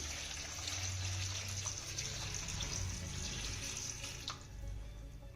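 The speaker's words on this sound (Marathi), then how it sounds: "आता यामध्ये घालूया भरपूर असं पाणी" Tap water runs steadily into a large vessel holding about 100 grams of chillies, a continuous close splashing rush that fades slightly toward the end.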